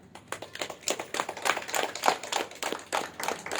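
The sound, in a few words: audience clapping loudly after meditation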